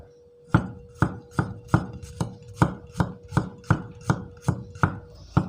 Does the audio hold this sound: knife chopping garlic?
yes